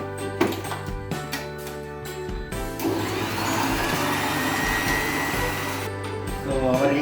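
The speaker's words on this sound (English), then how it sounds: "Just break 1 egg and start the mixer." Electric mixer whirring steadily as it beats an egg into rum cake batter, a loud continuous drone after a few brief starts and stops, alone without talk.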